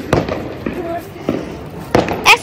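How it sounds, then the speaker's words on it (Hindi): Diwali firecrackers burst from a rooftop celebration, several sharp loud cracks spaced irregularly, with people talking between the bangs. "पटाखे फोड़ रही है"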